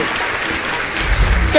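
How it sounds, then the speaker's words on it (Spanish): Loud applause from an audience welcoming a pageant contestant, a dense steady clatter of clapping that swells slightly toward the end. "recibimos con fuertes aplausos a la candidata número uno"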